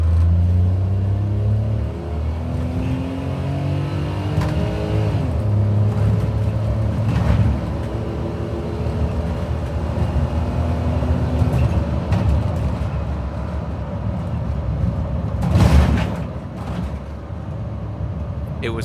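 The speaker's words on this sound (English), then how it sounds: "Let's do a quick little acceleration test here." A 1992 Daihatsu Mira Michito van accelerates, its small engine rumbling and rising in pitch through several gear changes, heard from inside the cabin with a loud, steady road drone throughout.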